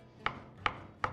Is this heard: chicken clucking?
no